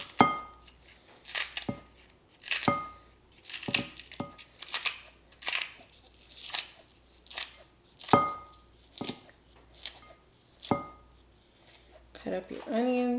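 Kitchen shears snipping green onions, with a dozen or so crisp, evenly spaced cuts close up, and a voice briefly at the end.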